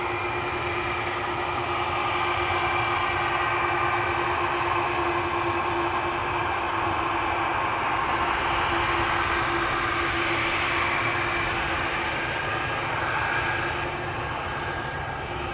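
An airliner powered by GE CF6 jet engines takes off at Schiphol's Polderbaan, a loud, steady jet roar with a droning tone that holds throughout, with no voices.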